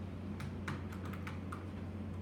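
Typing on a computer keyboard while entering a Google search, with quick irregular key clicks close up over a steady low hum, no talk.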